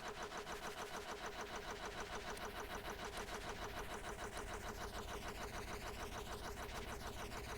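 Engine in the Stormworks game running at full throttle with the clutch engaged, a steady, loud, buzzing drone with rapid regular pulsing and no change in pitch, heard alone throughout.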